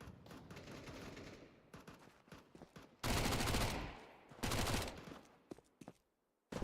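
Rapid bursts of automatic gunfire from a Counter-Strike match in an IEM Rio qualifier, loud crackling volleys separated by quieter stretches and faint scattered pops.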